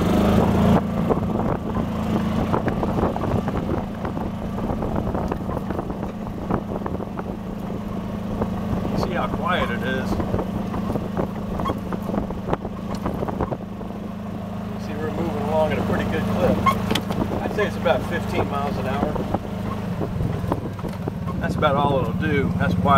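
Gas Club Car golf cart, lifted, with a small governed engine of roughly 9 horsepower, droning steadily at full throttle under wind rush, while someone talks over it throughout.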